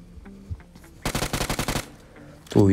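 BGMI (PUBG) mobile game gunfire: a rapid burst of about eight automatic shots in quick, even succession, loud and close, preceded by quieter ambient game sounds and followed by another loud noise at the end.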